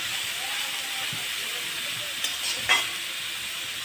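Banana stem (thor) frying in a pan for a Bengali dish, with a steady hissing sizzle throughout and a couple of brief scraping stirs near the end, close and moderately loud.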